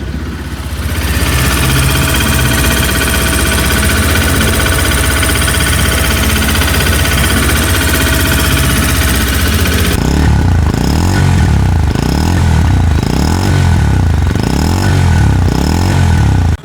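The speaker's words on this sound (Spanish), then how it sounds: "Ahora escuchemos el sonido de su motor." A CFMoto 125 motorcycle engine runs at steady high revs, loud and close, then drops to a lumpy, rhythmic idle with repeated pulsing blips of throttle, clattering alone with no talk.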